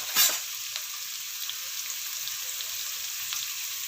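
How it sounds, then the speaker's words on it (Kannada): Ingredients fry together in a pan with a continuous close hiss and crackle, after a brief sharp burst of sizzling at the start. No voices. "ಒಟ್ಟಿಗೆ ಫ್ರೈ ಮಾಡ್ತೇನೆ."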